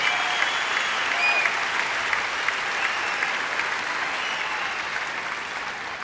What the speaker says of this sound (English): Let's give them a round of applause too for making this such a great tournament.